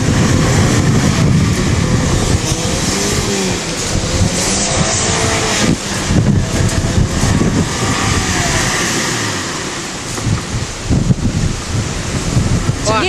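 Strong wind buffeting a microphone outdoors in wet weather, a dense continuous roar with rumbling gusts, loud throughout and covering everything else.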